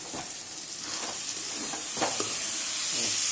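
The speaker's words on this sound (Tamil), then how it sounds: "இது மாதிரி நல்லா கிளறி விட்டுக்கோங்க" Potato fry being stirred in a pan for a Tamil village-style recipe, a steady sizzle with soft scraping strokes of the spoon coming through near and alone.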